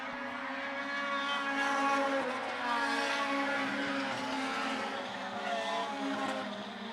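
Race cars lapping a 3/8 mile oval track at about 73 mph average, several engines droning loudly and steadily together with rising and falling pitch as they pass, with no talk.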